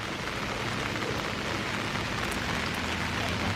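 Steady rain falls on a rainy day, a dense continuous patter on surfaces with no pauses and no voices.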